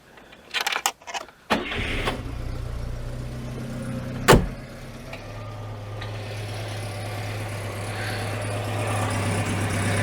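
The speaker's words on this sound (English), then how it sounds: "I might start the engine, give her a fair chance." A Citroen GSA with a small exhaust blow, a few clicks and thumps, then the engine cranks and catches with a sharp bang, settling into a steady low idle that runs on alone for several seconds.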